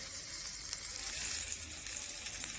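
Paella ingredients cooking undisturbed in a large pan make a close, steady hissing sizzle of frying that holds evenly throughout, with no talk.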